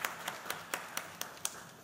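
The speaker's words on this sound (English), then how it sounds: "Can I have a round of applause?" A few people clapping at a lung cancer conference, sparse evenly spaced claps, fairly quiet and alone, about eight hand claps in steady rhythm.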